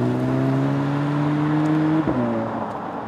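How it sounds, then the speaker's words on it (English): A 2017 Audi S3 turbocharged four-cylinder pulls at full throttle, a steady rising engine drone that breaks briefly at a gear change before easing off, heard alone and fairly close. "I do like kind of that whoosh of the wastegate when it is at full throttle"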